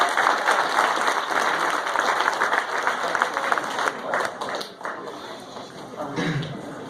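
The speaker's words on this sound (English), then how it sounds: "let's give a round of applause for Tanner Kurtz" An audience at a football awards speech gives a round of applause for a player, many hands clapping loudly at first, thinning into scattered claps and fading as voices rise near the end.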